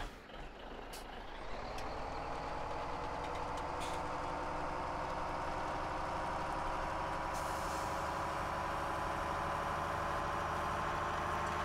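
In Farming Simulator 17, a truck's engine starts up and settles into a steady idle during sugar beet harvesting, with a brief air brake hiss and a mechanical drone held throughout and no talking.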